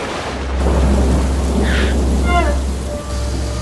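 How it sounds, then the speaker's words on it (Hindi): Thunderstorm at night over a city, heavy steady rain hissing with a deep rolling rumble of thunder, plus a brief faint tonal chirp in the middle. "तूफानी रात का अंधेरा शहर को अपनी चपेट में ले रहा है, बिजली की कड़क के बीच"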